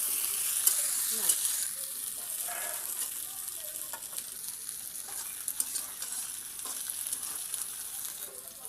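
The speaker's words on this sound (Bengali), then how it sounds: "দেখো আমার পেঁয়াজটা ভাজা ভাজা হয়ে গেছে, আলুটাও একটু ভাজা ভাজা হয়ে গেছে" Onion and potato pieces sizzle and crackle steadily in a hot pan with oil, with occasional scraping stir strokes, a continuous close frying hiss with no talking.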